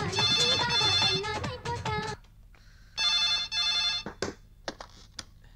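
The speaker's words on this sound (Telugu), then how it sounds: "మావా అంజలికి ఫోన్ కొట్టు" A telephone rings at night as a call goes through to a house. Bursts of bright electronic ringing come in two rhythmic spells, near and fairly loud, after a spoken exchange.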